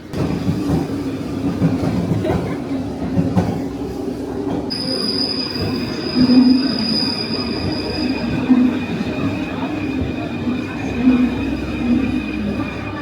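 A metro train rumbles in, its wheels squealing, then a sustained high-pitched whine holds over the steady low roar as it slows.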